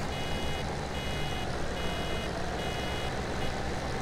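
Steady electronic warning beeps sound in Farming Simulator 17 as a harvester's tank passes 60% full, repeating evenly and loudly over a constant engine drone with no talking.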